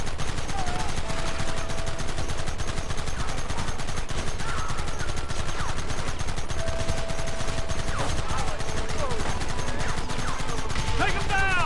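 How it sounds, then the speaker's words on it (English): Dense, continuous gunfire from rifles and rapid automatic weapons in Red Dead Redemption, loud and close, with game voices shouting over the shooting and occasional crashes mixed in. "Target's on the horizon! Fire at will!"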